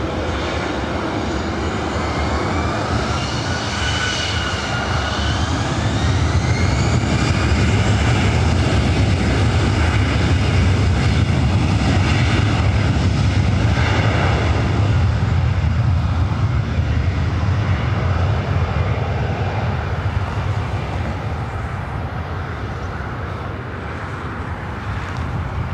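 A jet airliner takes off from LAX runway 24 right, its engines roaring loud and steady throughout, swelling to a peak midway and holding as the aircraft climbs away, with wind noise over the microphone.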